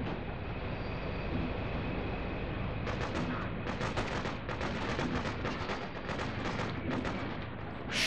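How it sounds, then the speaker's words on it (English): Machine gun fire rattles in the video game Freedom Fighters, distant and fairly faint, as rapid bursts of shots repeat over a steady rumbling background through the second half. "they got a machine gun up there"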